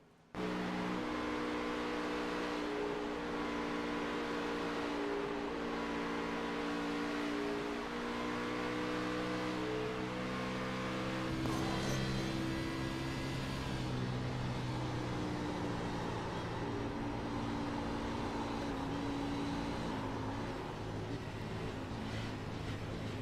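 Race car engine heard from on board during the final lap at Kansas in a racing video game, a steady loud drone with shifting tones and rev-limiter bouncing, continuous throughout with no talk.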